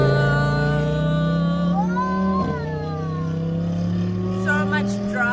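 A passing car driving fast, a steady engine drone with rising and falling pitch sweeps as it goes by, loud and continuous.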